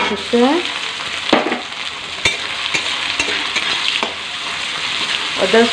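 Spice masala frying and sizzling in hot oil in a pan while being stirred for a cauliflower dish, with steady crackling hiss and a few scraping clinks of a spoon, close and continuous with no talk.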